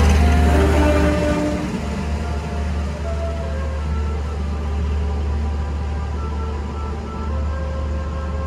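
Gumarang passenger train pulling out of a station on schedule, a steady, loud low rumble of rolling wagons with a sustained droning tone throughout.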